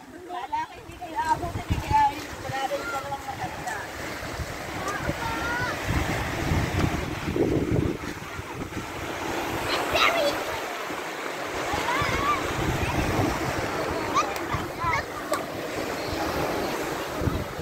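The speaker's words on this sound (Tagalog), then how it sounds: "Ito ang dagat." Surf washes steadily onto a sea beach with wind buffeting the microphone, while voices talk faintly over the rolling waves.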